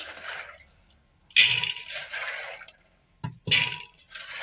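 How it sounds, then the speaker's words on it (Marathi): Water splashes and gurgles in bursts into a metal cooking pot holding washed chickpeas, with short pauses between pours and a few soft clinks. "आता याच्यात आपल्याला पाणी टाकायचे।"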